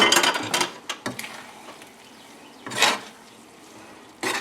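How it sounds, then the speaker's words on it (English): A spoon stirs linguine into a garlic three-cheese sauce in a pan, giving a few scattered metallic scrapes and clinks near the pan with quiet gaps between them. "Let's get it mixed in well with this sauce, okay? Use the spoon here."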